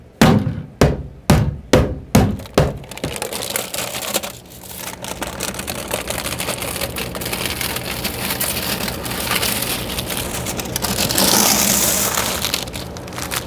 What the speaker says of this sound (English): It's got some cured epoxy in the bottom. So all I'm gonna do, flip it over, grab a mallet,